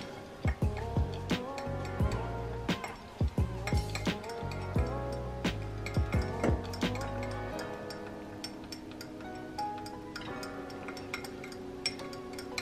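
A spatula stirs melted wax with essential oils for homemade lip balm just off the heat, producing light clinks and scraping taps against the container over a background of steady music.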